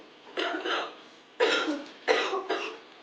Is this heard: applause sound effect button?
no